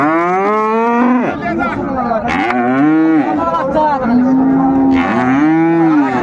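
Repeated loud, close mooing from cattle at a livestock market trading dairy cows and calves in Dinajpur, a series of long rising and falling calls one after another, with little talk around them.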